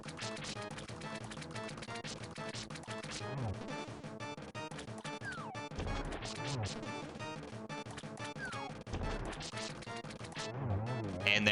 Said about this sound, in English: I love that they all explode too